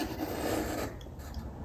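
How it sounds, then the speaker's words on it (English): A Japanese Ikeuchi marking knife scores timber while laid flat, giving a short, close scraping rub that fades after about a second. "With the Ikeuchi marking knife, I can put the whole thing flat against the timber"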